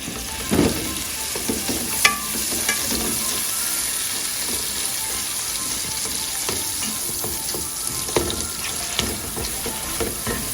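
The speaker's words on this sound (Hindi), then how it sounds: "और इसमें ये खोया डालें, इसको फ्राई करके और अलग निकालना है।" Khoya frying in a pan for gulatti, a continuous close sizzle with occasional scraping stirs and a sharp clatter near the start, no voices.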